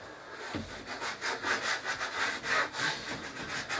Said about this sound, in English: Let me rub it. We use some of the material for rubbing.